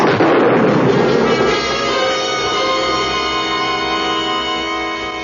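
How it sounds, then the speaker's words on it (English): Shotgun blasts ring out near a house, a loud burst at the start followed by a long, rumbling echo that slowly fades with no talking over it. "Those were shotgun blasts."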